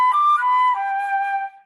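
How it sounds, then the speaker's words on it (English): A flute plays a short phrase of a few clear, pure notes stepping downward, soft and close, then fading out after under two seconds with no talking. "So normally flute sounds like this,"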